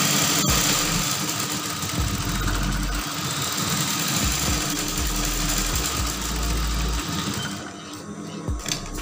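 Sewing machine stitching the darts of a brocade and plain-fabric dress, a loud, close, continuous mechanical whir with a rhythmic low thumping throughout.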